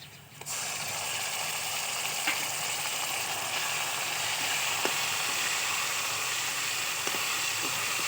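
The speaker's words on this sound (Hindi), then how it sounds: "ये प्याज ब्राउन हो चुकी है। अब हम टमाटर का पेस्ट इसमें डालेंगे।" Tomato paste added to browned onions in a hot pan sets off a sudden, steady, loud sizzle and hiss that carries on evenly with a few faint clicks, no talk.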